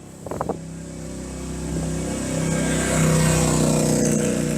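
A car passing on an American street builds from a low engine hum into a louder, rising acceleration as the driver presses the gas, with a brief clatter at the start.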